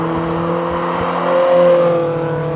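A Mazda MX5 Mk3 with the BBR Super 200 upgrade on a track, its engine droning steadily with a rising harmonic whine that peaks midway as it pulls, loud and alone with no voices.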